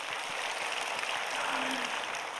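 A church congregation claps in steady, sustained applause, soft and somewhat distant.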